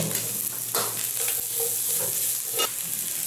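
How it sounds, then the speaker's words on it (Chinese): Green and red peppers and scallions stir-fried with ginger and garlic slices in a hot oiled wok, a loud constant sizzling hiss broken by scraping tosses of the spatula, with no one speaking. "放入生姜蒜片，煸炒出香味，加入青红椒金葱"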